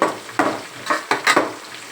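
Onions and green chilies frying in a pan: close, bright sizzling bursts in quick succession as the pieces are stirred, each swell fading before the next.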